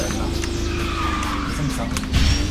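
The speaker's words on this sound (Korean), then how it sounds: "드리프트 감속, 드리프트 감속을 해볼게요." A kart drifting in KartRider with the Saber X kart, a steady sustained tire skid with engine hum running throughout, loud and continuous, under a voice.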